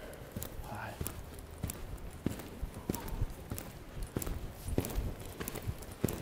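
A horse's hooves thud rhythmically on an arena surface during a riding lesson canter, a steady repeating three-beat clip-clop at moderate distance, with an instructor talking over it.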